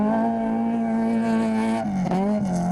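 A Ford rally car driven flat out on a special stage gives a loud, sustained engine howl at high revs, then a brief dip and recovery in pitch as the driver shifts or lifts.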